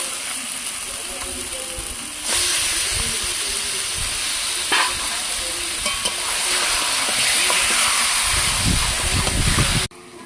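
Meat coated with turmeric, green chilli and pepper sizzles loudly in a hot pan with tomato, a constant hiss that jumps in intensity as the meat goes in, with occasional stirring scrapes before cutting off abruptly.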